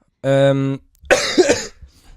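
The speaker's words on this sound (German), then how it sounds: "ich habe noch ein Husten" A short voiced sound followed by a single rough, close cough, loud and abrupt, trailing off into quiet breathing.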